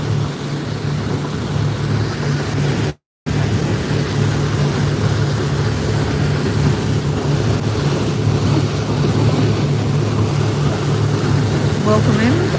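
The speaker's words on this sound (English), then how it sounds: "We're just on a speedboat in the islands of Flores." Speedboat running among the islands of Flores near Komodo, a steady loud engine drone with wind buffeting and water rush throughout, briefly cut out once early on.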